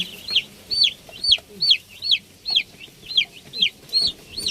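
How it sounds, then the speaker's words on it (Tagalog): Pet chicks on a Filipino backyard farm give a steady run of about ten high, rising peeps in an even rhythm, close and clear over faint low background noise. "So, yan na po ang aming mga sisiw na alaga."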